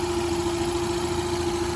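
A 1995 Dodge Caravan engine idling, a steady even hum with a strong constant tone, continuous and close throughout with no talk.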